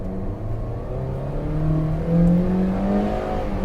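A Toyota Innova Hycross petrol GX CVT accelerates hard from a standstill, its engine droning up steadily and growing louder inside the cabin, with no one speaking.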